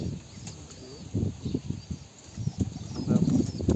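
Pigeon wings flap in quick bursts across the clip, a soft fluttering beat that comes and goes, fairly close, with no talking.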